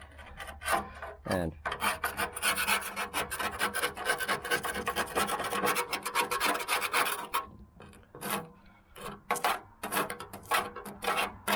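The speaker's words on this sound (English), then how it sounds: "So I've got this scraper" A hand scraper rasps blistered paint off a metal mower deck in repeated harsh scraping strokes, close and loud, with brief pauses between passes toward the end.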